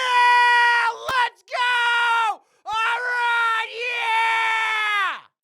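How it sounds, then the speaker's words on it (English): A man screams loudly and at length straight into a microphone, in four sustained, strained bursts separated by short gaps, with no other sound around them. "I'm gonna scream one more time"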